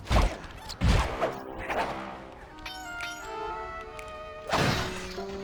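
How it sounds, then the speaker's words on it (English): Cars being smashed in the video game Sly 2: heavy crashing impacts strike in bursts, with a lingering ringing tone between hits and a final loud smash near the end. "Oh, cool, I can vandalize cars."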